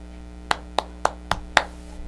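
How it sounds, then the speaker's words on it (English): Five sharp, evenly spaced hand claps ring out close and clear, with nothing else around them, as applause for a middle school teacher of the month. "You have to clap."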